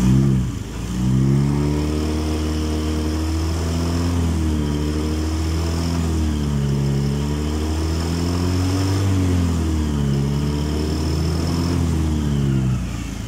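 A Honda Beat FI scooter engine with a charging fault that overcharges to 17–19 volts runs steadily up close, its pitch rising and falling through repeated revs for about thirteen seconds, with no talking.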